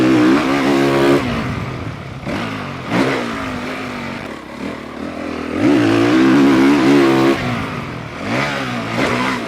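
A dirt bike engine revs in third gear on the run-up to a stepdown jump, rising and falling in several loud surges of throttle held close and alone.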